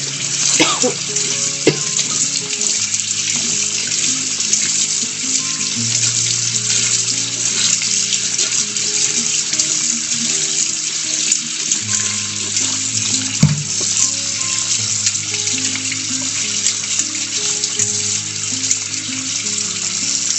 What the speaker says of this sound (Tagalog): Ganito tayo magbalat ng sayote guys. With the running water.